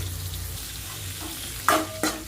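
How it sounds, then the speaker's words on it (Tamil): Chopped onion and green chili sautéing in a pan with chana dal for an egg curry, a soft steady sizzle with a couple of sharp scraping stirs near the end, close and without talk. "வெங்காயம் போட்டேன் ஒரே ஒரு பச்சை மிளகா போட்டாச்சு நல்லா வதக்கி விட்டுக்கலாம்"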